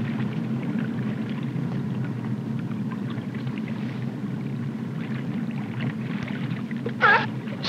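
A search boat sits on the ocean during a Navy dive operation, its engine a steady low rumble that continues throughout, with a brief splash near the end.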